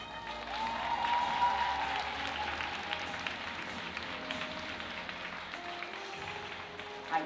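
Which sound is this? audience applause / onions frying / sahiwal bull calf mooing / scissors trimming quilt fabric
audience applause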